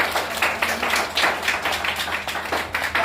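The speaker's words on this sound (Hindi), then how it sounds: "तो एक बार जोरदार तालियां।" Audience at a training event breaks into a burst of applause, steady dense clapping from many hands filling the room for a few seconds, with no talking over it.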